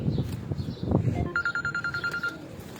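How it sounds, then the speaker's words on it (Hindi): A telephone rings on a rooftop with pigeons, a rapid electronic trill of evenly pulsed tones starting midway after some low background rumble and movement. "अरशद भाई का फोन है, सुनना"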